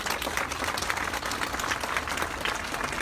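Outdoor crowd at a street rally in Gyumri applauding steadily, a dense, even roar of many hands clapping together with no speech on top.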